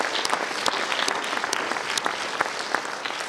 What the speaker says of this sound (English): would you help me give them a round of applause?